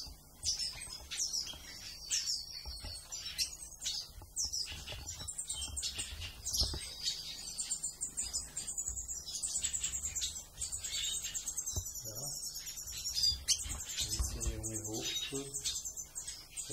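Siskins chirp in a breeding aviary, a dense, continuous chatter of high twittering calls and trills close by, with a faint voice briefly underneath toward the end.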